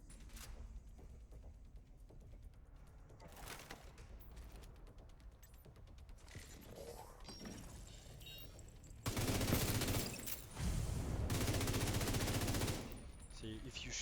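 Automatic weapon fire in The Division 2, beginning as scattered shots and clicks, then building into a loud sustained burst of rapid gunfire in the latter half.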